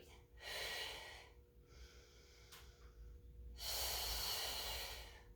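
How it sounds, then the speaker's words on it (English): A person breathes deeply during a pilates mat exercise, two long audible exhales with a quieter pause between them, close and unaccompanied by talk. "And breathe."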